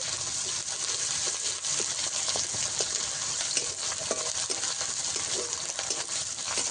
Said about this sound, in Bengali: আদা রসুন পেঁয়াজ পেঁয়াজের সঙ্গে ভালো করে ভেজে নেব